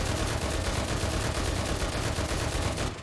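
M1919A6 machine gun firing continuously in the video game Enlisted, a dense, steady stream of rapid, loud shots that runs unbroken for the whole stretch and then cuts off at the end.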